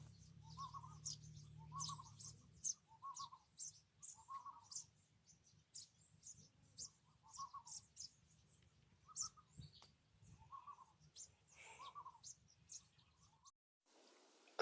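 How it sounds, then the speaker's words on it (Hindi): Birds call out in a quiet morning setting: a repeated soft hooting note recurs steadily, mixed with sharp, high chirps and tweets scattered throughout. "इधर देखिए चिड़िया कैसे बोल रही है, कितनी सुंदर आवाज लग रही है।"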